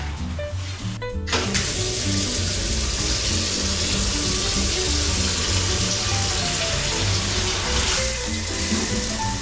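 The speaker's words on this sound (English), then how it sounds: "Lovely big bathtub. Good pressure." Water gushes from the tap of a big hotel bathtub at a beach resort room, a steady, strong splashing rush that runs continuously, close and fairly loud, with no voices.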